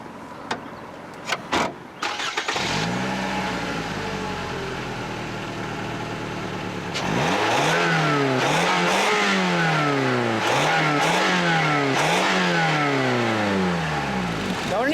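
A 2017 Toyota Camry XSE's 2.5 liter four-cylinder engine cranks and catches, settles into a steady idle, then revs up and down in several rising and falling sweeps, loud and close with no talking.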